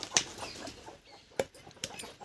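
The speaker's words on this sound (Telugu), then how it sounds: "పెద్ద పుంజు దీన్ని తినేయటల్లా." A farm rooster gives a few short, soft clucks with brief wing-flapping rustles, close by and fairly quiet, in a backyard setting.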